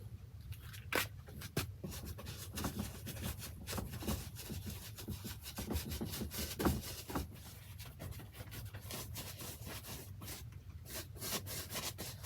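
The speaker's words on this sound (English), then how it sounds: "after the cement is completely dry, I rub it to get anything loose off" Dried cement texture on a large acrylic mixed-media canvas is rubbed by hand, giving a run of soft, close scraping and brushing strokes in irregular bursts, with no talking.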